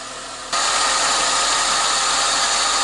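A 1997-1999 Toyota Corolla 1.6L engine starts up after a fuel filter replacement, catching abruptly from near-silence and then running at a steady, loud, close idle.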